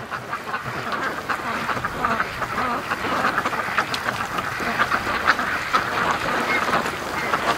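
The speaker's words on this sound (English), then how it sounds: "I'm watching the ducks here on the lake, and they're still straggling down here." Ducks, including Muscovy ducks, quack on a lake in a busy, overlapping chorus of short calls that runs throughout at moderate distance, with no one speaking.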